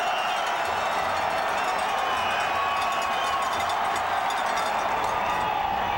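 A college football stadium crowd roaring on 4th and goal, a dense sustained wall of cheering and shouting from thousands of fans, with a broadcast voice audible over it.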